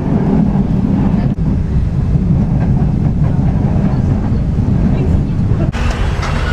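Steady low rumble of a metro train ride in the Philippines, heard from inside a car, with continuous rolling noise and a couple of brief clunks, loud and close throughout.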